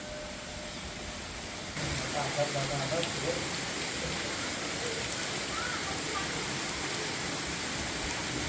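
Steady light rain hisses evenly around an ancient Shiva cave temple at Ambarshe Rishi, growing a little fuller after the first seconds, with faint voices briefly in the background.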